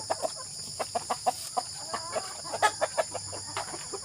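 Tethered Texas gamecocks kept as backyard chickens cluck in a steady run of short, close calls, several per second, over a faint background hum.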